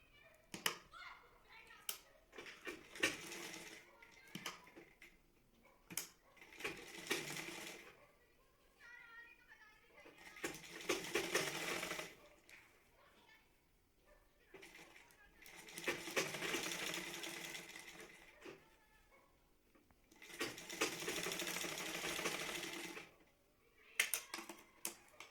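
A sewing machine stitches a blouse in three or four separate runs of rapid, rattling needle strokes. Quieter pauses between runs hold fabric handling and someone talking.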